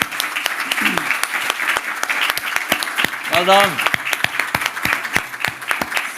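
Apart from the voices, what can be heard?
audience standing applause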